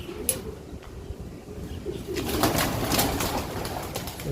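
Homing pigeons at a small backyard loft coo steadily in low, soft murmurs while a few higher chirps and faint wing sounds rise as the birds are released, the chorus growing busier midway.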